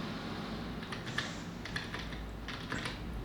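A few light key presses on a computer keyboard, repeated taps of the Delete key during a restart to open an ASRock motherboard BIOS, spaced clicks over a steady background hum.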